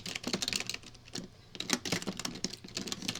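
Rapid, uneven clatter of keys on a computer keyboard, close and fairly quiet, with a few brief lulls between bursts of typing.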